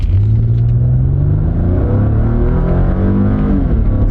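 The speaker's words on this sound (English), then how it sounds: "That engine sounds strong." A car engine roars loudly up close, its pitch climbing steadily as it accelerates hard, with a deep rumbling undertone.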